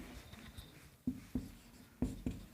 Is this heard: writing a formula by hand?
yes